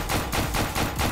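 Rapid gunfire from the video game Paint Warfare, a dense, continuous burst of shots for about a second with no talking.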